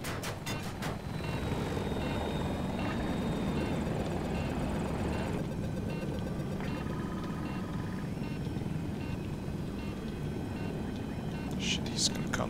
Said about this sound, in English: oh, it's a jet.